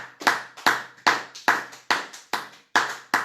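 Sharp, rhythmic clapping in an even beat, about two claps per second, close and loud, as a church congregation applauds together; no talking.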